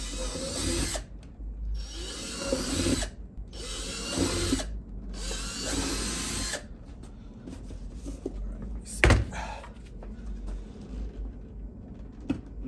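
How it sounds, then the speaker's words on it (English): A power drill bores holes through a leather saddlebag for a Harley-Davidson Softail Heritage, giving several close, whining bursts of a few seconds each with pauses between, then quieter handling knocks and one sharp clack. "I'm going to drill these holes in this bag"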